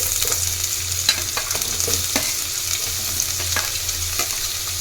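Cut onion fries in a pan with roasted garlic and ginger for Schezwan noodles, a loud continuous sizzle broken by repeated scraping stirs, close up with no talking.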